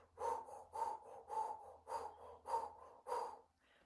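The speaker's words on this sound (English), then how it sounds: "O-shaped mouth breath. Navel comes in on the exhale." Six forceful O-shaped mouth exhales in a Kundalini meditation, evenly spaced about half a second apart, close and breathy with a soft airy rush on each, then quiet.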